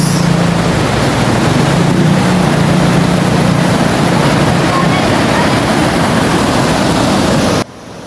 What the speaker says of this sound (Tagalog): Ayan, napakalakas ng agos.